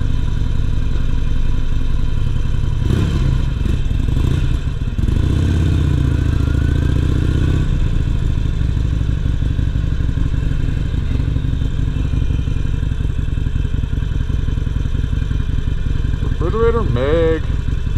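A motorcycle runs steadily while being ridden, a loud continuous engine drone mixed with heavy wind buffeting, its pitch shifting slightly as the rider changes speed.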